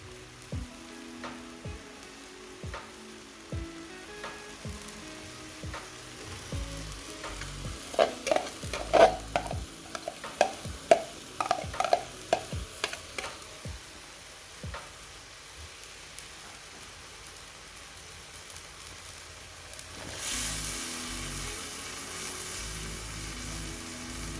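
Shrimp and green eggplant are stir-fried in a hot pan, a steady sizzle broken by a run of sharp, rhythmic clacks and scrapes from a spatula stirring, then a louder rush of frying.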